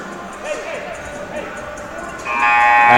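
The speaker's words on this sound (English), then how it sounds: "As the buzzer sounds and the teams head back onto the floor" A basketball game buzzer sounds at a women's college game, Greenville at Eureka: a loud, steady, sustained electronic tone that rises out of soft arena ambience near the end and holds.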